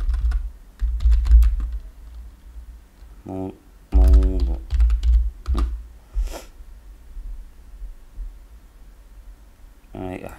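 Keystrokes on a computer keyboard as a search is typed, coming in quick bursts of clicks separated by pauses, heard close up with a low background hum.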